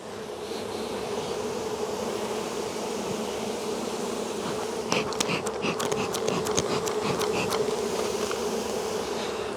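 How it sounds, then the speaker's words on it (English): A dense, steady drone of honey bees fills an open hive during a spring inspection. Loud close buzzing continues throughout, and sharper individual buzzes and clicks pass by in the second half. "That's a lot of bees."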